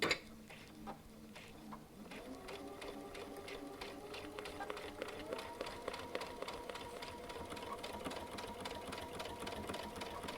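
Baby Lock Altair sewing machine stitching from a single layer of denim up to five layers: a brief start, then a steady, fast mechanical whirr with rapid ticking needle strokes, faint and close.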